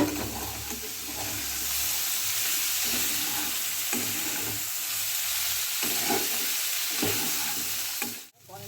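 Green chillies drop into an oily vegetable curry and sizzle steadily, a constant close frying hiss with occasional scrapes and clinks of stirring, ending in a sudden handling knock.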